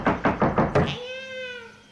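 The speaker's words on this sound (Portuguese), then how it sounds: "Eu vou bater na porta, Mandy, ó." Four firm knocks thud on a door in a video game in an even rhythm, then a cat's meow rings out right after.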